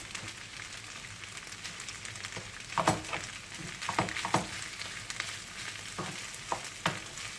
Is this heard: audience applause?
no